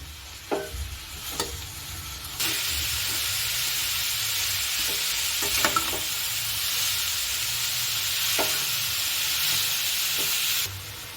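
Carrot halwa being stirred in a pan gives a few spoon scrapes, then a loud, steady hiss of frying that runs on with occasional stirring clicks.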